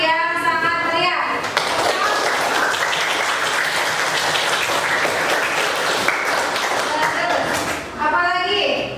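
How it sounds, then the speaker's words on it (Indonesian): A classroom of children bursts into loud, lively applause that carries on for several seconds, with voices heard just before and as it fades. "silakan menunjukkan dengan tepuk tangan yang sangat meriah"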